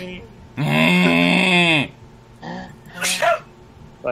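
A loud, drawn-out voiced sneeze, followed by a couple of shorter breathy bursts nearby.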